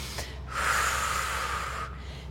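Deep breath in during a French-language workout session, one long close inhalation lasting over a second, alone without talk.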